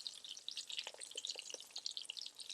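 Chicken cutlets frying in avocado oil, giving a faint, steady crackle of small pops and sizzles close by, with no voices.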